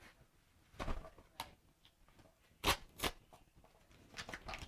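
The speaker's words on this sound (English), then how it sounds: "So we'll just pull them off." A few sharp tearing and snapping sounds at irregular intervals, close by, as ribbon pieces are pulled apart for a flower decoration, with quiet rustling between.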